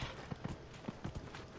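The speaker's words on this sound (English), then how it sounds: "Where's my horse? Alright, back on the horse." Horse hooves clip-clop while riding in Dragon Age: Inquisition, with a handful of soft, uneven thuds spaced irregularly over a low background hum.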